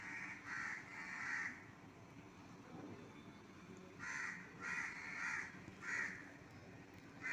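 A crow perched in a tree caws in repeated bursts, a pair of harsh calls early and then a run of four more later, moderately near over faint outdoor background hiss.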